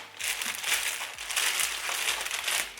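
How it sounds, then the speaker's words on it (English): A plastic packaging bag crinkles and crackles close by in repeated handling bursts, with no talking. "So it comes in plastic bag like this."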